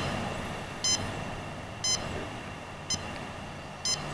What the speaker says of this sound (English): So this is giving me a beep that there's something wrong with this power supply